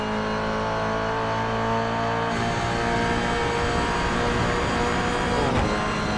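Toyota 86 race cars lapping the Brands Hatch circuit, a loud continuous engine drone with revving and shifting as the cars pass close by, filling the whole stretch without talk.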